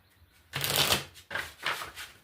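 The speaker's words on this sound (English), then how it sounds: "I'm going to shuffle and cut again." Tarot cards being shuffled in three quick riffling bursts, crisp papery rustles up close with short pauses between them.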